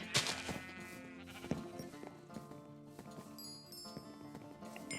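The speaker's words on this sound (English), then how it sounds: "We've got sheep" Sheep bleat in a modded Minecraft farm with animal pens. The short bleats sit over a busy game mix of music and other effects, at moderate loudness and with no talk.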